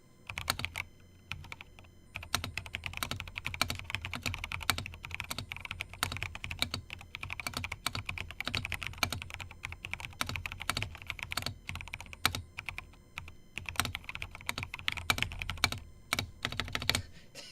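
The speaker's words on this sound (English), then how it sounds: "Let's go ahead and do a quick typing test on the Kara." Fast typing on a Rama Works Kara mechanical keyboard, a dense run of crisp clacks with heavier, rattly space bar hits, close and steady with brief pauses, with no talk.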